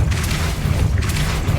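A spell blast from the Depulso charm in the video game Hogwarts Legacy: a sustained, heavy low-end boom that rumbles loudly for the whole moment, with swells of airy hiss riding on top and no talking.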